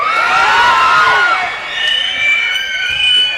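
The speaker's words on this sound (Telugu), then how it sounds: "మీ అరుపులకి రోమాలు ఎప్పుడు నిక్క ఒడుచుకుంటూ ఉంటాయి" A crowd at a movie teaser launch event in Rayalaseema cheering, whooping and shouting continuously, loud and dense, with high shrill voices rising above the mass.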